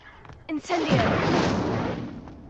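An Incendio fire spell cast in Hogwarts Legacy, a wizarding game: a sudden, loud fiery whoosh and blast that swells and roars on for over a second before fading, with a brief voice just before it.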